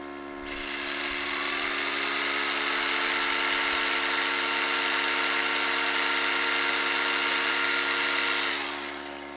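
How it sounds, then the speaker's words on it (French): An air compressor runs, powered from an EcoFlow Delta Mini portable battery, and a jigsaw joins it: a steady, fairly loud mechanical hum with strong tonal harmonics that starts abruptly, holds evenly for about eight seconds, then winds down. "On va mettre le compresseur en route et ensuite la scie sauteuse."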